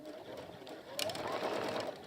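Sewing machine making a short holding stitch on a bag, a brief whirring burst about halfway through, close but fairly quiet.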